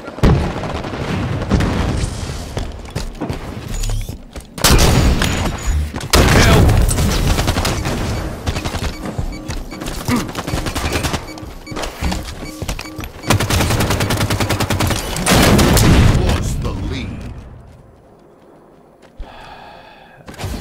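Sniper rifles fire during a Halo 5 multiplayer match amid loud bursts of heavy gunfire, booms and dense combat noise, with intense stretches broken by short lulls before the action fades near the end.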